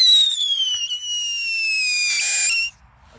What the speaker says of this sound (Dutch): Dus dan doen we eerst even een gele Funke luchthuiler.